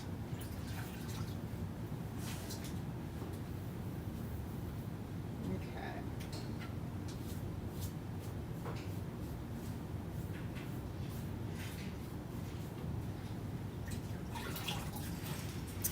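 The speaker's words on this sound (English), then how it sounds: "And then rinse." Water rinsing over an item at a sink, a faint continuous trickle and splash with irregular drips, fairly quiet and steady throughout.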